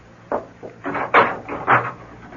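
A door closes as a visitor lets himself out in a 1970s CBS Radio Mystery Theater drama: a short run of soft knocks, a latch rattle and wooden thuds, close and alone with no talk.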